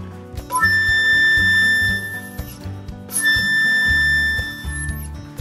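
Thin, high flute whistle tones hold for a couple of seconds each, two long pure notes separated by a brief breath.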